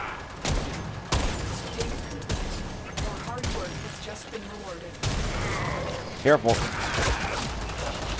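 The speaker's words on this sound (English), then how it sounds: "enemies will keep peppering it with fire" Enemy gunfire from the video game Warframe on PS4 arrives as rapid bursts of shots and impacts over game noise, with a brief spoken warning in between.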